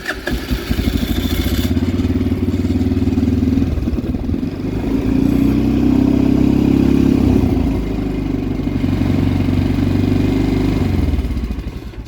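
Kazuma Jaguar ATV engine idles on choke in neutral, a loud, close, clattering mid-pitched putter. It runs steadily for about twelve seconds, rising and falling slightly in speed before tapering off at the end.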